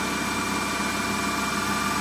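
The motor of a Kerry AG metal lathe, fed by a VFD at 65 Hz and turning 2000 RPM, runs with a steady, loud, even whine and hum, close and unbroken, with no talk over it.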